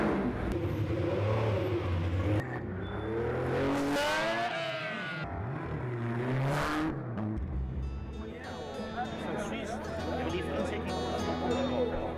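Racing cars, including a Cegga built by Georges and Claude Gachnang, running two by two on a circuit, with engines revving and whirring past at moderate distance beneath steady talk.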